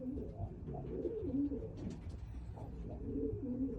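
Racing pigeons cooing nearby in soft, repeated low calls that overlap one another, with faint background rustle and no voices.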